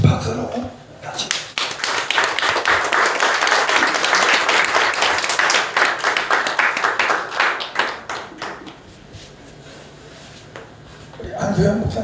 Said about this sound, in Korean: 자, 우리 박수로 같이.